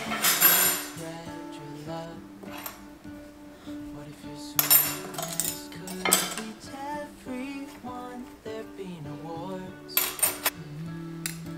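Hand-washed dishes and cutlery being put away in a home kitchen without a dishwasher, with repeated clinks and clatters of plates and silverware, close and irregular, louder bursts at the start and around the middle.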